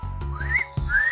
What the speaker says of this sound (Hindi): पहले सीटी बजाना तो सीखो।